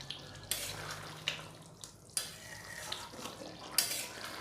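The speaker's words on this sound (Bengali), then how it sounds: "দিয়ে নাড়াচাড়া করে মিশিয়ে 1 মিনিট আর একটু ফুটিয়ে নেব।" Duck curry spiced with garam masala being stirred in a pot as it simmers, with soft scraping strokes and a low steady bubbling hiss, fairly quiet and close, no talking.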